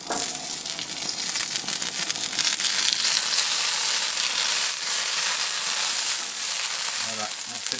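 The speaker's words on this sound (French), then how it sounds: "on fait surtout attention que le beurre ne brûle pas trop vite" A generous knob of butter melting on a hot Weber plancha, a loud, steady crackling sizzle that swells after a few seconds and holds, with faint background voices.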